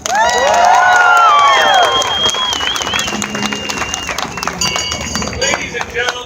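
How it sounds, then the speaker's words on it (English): A large outdoor crowd on Boston Common at a Christmas season event applauds and cheers for a town crier from New Glasgow, Nova Scotia, loud sustained clapping with whistles and shouts that slowly taper off. "how about another huge round of applause for James Stewart, the town crier"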